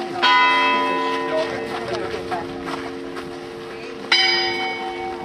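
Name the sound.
church bells ringing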